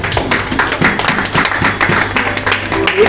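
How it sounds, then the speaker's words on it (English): Close, loud rhythmic hand clapping by a congregation at a deliverance prayer service, sharp claps falling in a steady beat for a few seconds. "Clap for that."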